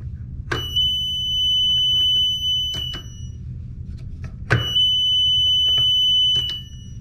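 Alarm driven by a 24 volt relay circuit switching a 120 volt load, sounding as a loud, steady high-pitched electronic tone in two bursts, each begun with a sharp relay click and followed by clicks as it stops.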